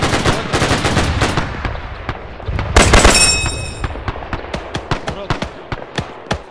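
Automatic gunfire in the military shooter ARMA 3, rapid bursts of loud cracks with a dense flurry near the start, a heavier volley at about three seconds, then steady evenly spaced shots, mixed with game-voice chatter.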